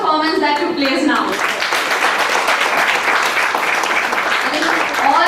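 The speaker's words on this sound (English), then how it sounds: "Can I get a huge round of applause for all the performance that took place now?" Audience at an Independence Day celebration gives a big round of applause for the performers, loud and sustained, with a voice speaking briefly before and after it.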